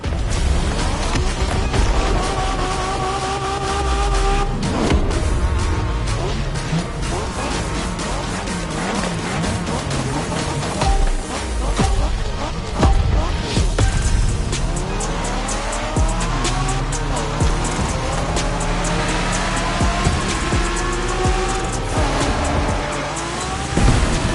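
Race car driving in The Crew Motorfest, a video game: an engine roars loud and steady with repeated tire squeals and skids, rising revs and gear shifts, and faint speech now and then.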